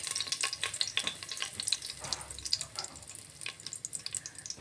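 Whole garam masala, bay leaves, cumin seeds and dried red chillies crackle and sizzle in hot oil for a Bengali veg sabji, a steady close hiss broken by small pops and stirring scrapes, with no talking.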